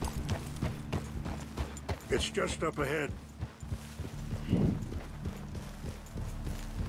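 Horse hooves clip-clopping in Red Dead Redemption 2 as an out-of-control horse moves through the game world, a steady walking beat under game dialogue and a talking player.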